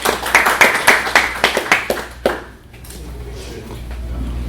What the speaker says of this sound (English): actually we can give him a quick round of applause